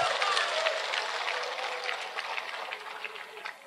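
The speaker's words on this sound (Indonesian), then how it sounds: "Kalian enak aja tepuk tangan" Audience applause at an Indonesian-language religious lecture: a steady, diffuse wash of clapping that eases slightly toward the end.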